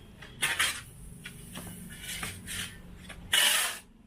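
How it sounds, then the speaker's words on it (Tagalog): Cement and sand being mixed by hand with a metal tool, giving scraping, clinking strikes in irregular bursts, with a louder scrape near the end; no talk. "Halo ng semento, buhangin natin sa semento. Halo natin mabuti"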